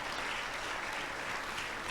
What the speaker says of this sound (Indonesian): Tepuk tangan untuk siswa-siswa kita.